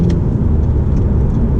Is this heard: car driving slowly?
yes